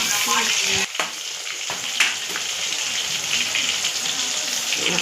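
Chicken 65 pieces frying in hot oil make a loud, continuous crackling sizzle, broken by a couple of stirring and turning clatters early on, with a voice faintly present.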